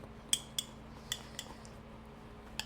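A utensil stirring sourdough starter with water and 25 grams of flour in a container, five or six sharp clinks against the sides spaced unevenly, close and quiet.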